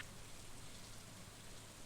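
Steady, dense hiss of rain falling on a farm in the farming game Stardew Valley, even and unbroken with no voices.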